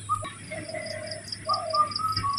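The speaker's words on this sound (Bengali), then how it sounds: "কত সুন্দর পাখি ডাকতেছে" Birds calling outdoors at a rural village home, with cooing dove-like notes and repeated short whistled chirps over steady background insect hum, fairly close and clear with no talk.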